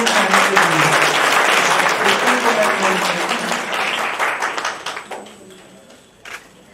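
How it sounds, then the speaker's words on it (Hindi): A crowd gives sustained applause at a Shiv Jyoti Bhawan annual day celebration, dense and loud at first, then thinning into scattered claps and dying away. "ताली तो बजाओ"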